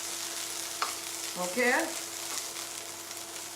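Chicken frying and being stirred in a small non-stick pan, browning as it cooks, with a steady sizzle and a few brief scraping stirs close by. A voice speaks one short word.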